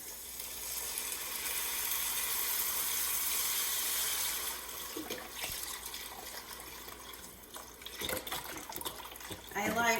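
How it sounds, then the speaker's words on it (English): Beef broth pours into a pot while making pho at home, a steady liquid splash and rush lasting several seconds, then fading into lighter trickles and clatter near the end. "and then add some beef broth here"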